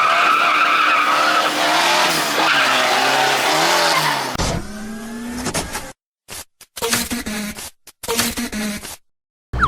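Diesel pickup truck driven in a drift, with a loud engine roar and long tire squeals and skidding, then broken bursts of engine and tire noise separated by short silences.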